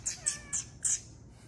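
A hungry cat waiting for food gives four quick, high meows in a rapid row, fairly close and moderately loud, with no talking over them.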